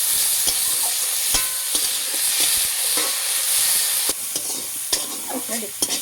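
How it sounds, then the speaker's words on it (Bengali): Bathua greens stir-fry with garlic in a pan, a loud close sizzle broken by repeated sharp clacks and scrapes of a spatula against the pan. "এই শাকটা দিয়ে দেবো, দিয়ে ভালো করে একটু নেড়ে নেব"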